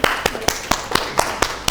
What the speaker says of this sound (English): Guys, give yourself a round of applause.